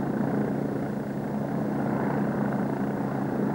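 A Royal Navy helicopter lifts off from a small ship's flight deck with a loud, continuous rotor and engine roar that holds steady throughout, close and dominant.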